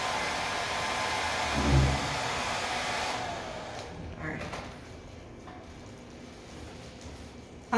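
A hair dryer drying watercolor paint on paper blows a steady close whoosh, then cuts off, leaving quiet room tone with a few small handling knocks.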